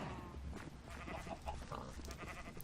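Sheep bleating in Minecraft with the Better Than Wolves mod, a few short nasal bleats over low rhythmic game noise, fairly close and moderately loud, no talking.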